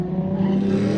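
A Ford Crown Victoria arriving at a drift day event, a steady, fairly loud engine hum with a low tonal drone over one second, no talking.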